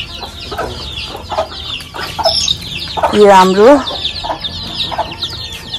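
Village chickens cluck and squawk close by around a home in Nepal, with a loud drawn-out call in the middle, while a person talks over them.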